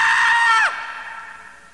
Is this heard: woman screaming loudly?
yes